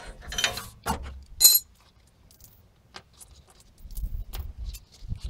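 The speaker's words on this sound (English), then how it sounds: "Screwing those now." Screws being driven and tightened while fitting rear King springs to a Land Rover Discovery 300Tdi, heard as a few short metallic clicks and ratcheting bursts with quiet gaps and low handling noise between them.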